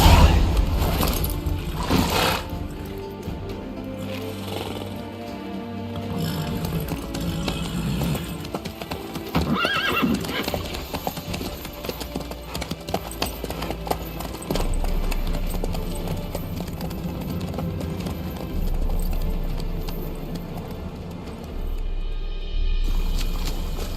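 Horse hooves clip-clop steadily through a video game scene, joined by creaking mechanical and gear-like noises, with occasional thumps and a faint voice now and then.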